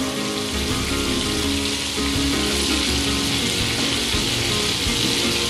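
Ghee and butter melting together in a pan, giving a steady, dense sizzle and crackle that runs evenly throughout at close range with no voices.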